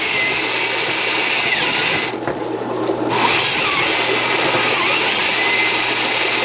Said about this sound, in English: you're going to have to drill a lot of these holes